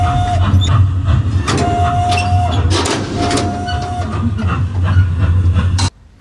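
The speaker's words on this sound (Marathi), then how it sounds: "आता ट्रेनचं इंजिन चालू करत आहे." A train engine starts up inside the Spoorwegmuseum railway museum in the Netherlands, heard as a steady low rumble with a repeating high tonal whine and mechanical clatter that cuts off abruptly near the end.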